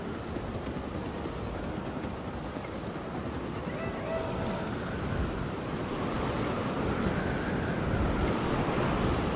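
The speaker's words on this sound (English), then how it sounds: "It's a sandstorm." Strong sandstorm wind roars steadily in the desert park of Jurassic World Evolution 2, a dense broadband rush that swells slightly louder toward the end, with faint tonal game sounds drifting over it.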